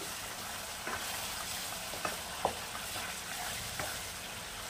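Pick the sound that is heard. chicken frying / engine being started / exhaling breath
chicken frying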